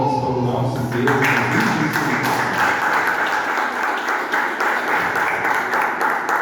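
A church congregation at a Sunday consecration service breaks into sustained, dense applause right after a voice speaks, the clapping filling the room for several seconds.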